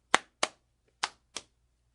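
A student slaps his hands down onto his lap four times, in two close pairs, with sharp, fairly loud smacks and silence between them.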